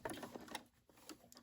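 A Brother SE600 sewing machine runs in short, quiet bursts of rapid ticking while stitching a reversible fabric gift bag, pausing briefly midway.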